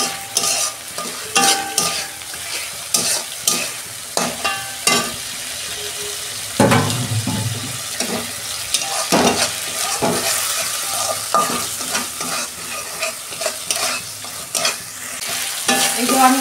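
Yam and potato masala is stir-fried in a pan, with frequent spatula scrapes and knocks over a continuous oily sizzle, close and fairly loud.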